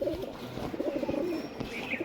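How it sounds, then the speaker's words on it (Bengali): Pigeons kept as pet racing birds coo in soft, low repeated calls, close but faint, with a light chirp near the end over quiet background noise. "এক জোড়া রেজাল্টেড পায়রা"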